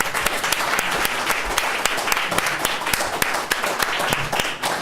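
Round of applause for state legislative candidates at a chamber of commerce forum, with many hands clapping steadily and loudly throughout and a few sharper individual claps standing out.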